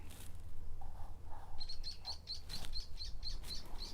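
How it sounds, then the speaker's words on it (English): A woodpecker in North Coyote Valley gives a quick, evenly spaced series of short, high calls, faint and distant over soft background hiss. "Oh, that's a woodpecker. Isn't that a woodpecker?"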